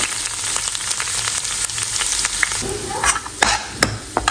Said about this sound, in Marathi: आता कांदा टाकणार आहोत कांदा एकदम आपल्याला असा लालसर करायचा आहे